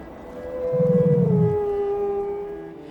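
Wolves howl in a northern forest: one long, sustained howl slowly glides downward and fades, with a brief low rumble beneath it near the start.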